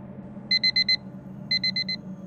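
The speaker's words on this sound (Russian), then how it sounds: "Из объятий сна меня вырвал звонок будильника." An electronic alarm clock rings in two bursts of four quick, bright beeps, clear and close over a faint low room hum, with no talking.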